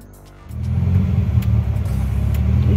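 A car engine in Otanche, Boyacá, with a fault making it want to stall, idles and then rises to a steady, close, rough rumble with an uneven low throb.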